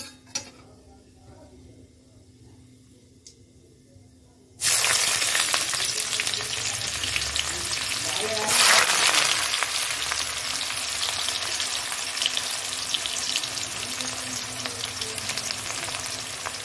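Onions and potatoes sizzle loudly as they hit hot oil in a pan, a quiet kitchen suddenly giving way to steady, close frying with occasional stirring scrapes, no talking.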